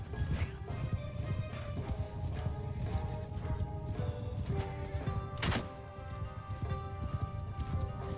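Horse hooves clip-clop steadily through a close, busy game battlefield in Shokuho, with occasional whinnies, a sharp crash midway, and a dense low rumble underneath.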